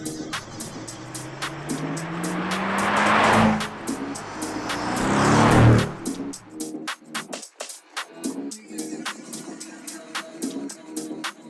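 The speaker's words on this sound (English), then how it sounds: "we're going to be taking the AMG GTR Pro and we're going to be chasing a McLaren Senna" A Mercedes-AMG GT R Pro and a McLaren Senna roar past, two loud engine swells rising and falling in quick succession with a tire squeal, then the sound drops away into gritty rustling and crackling noise.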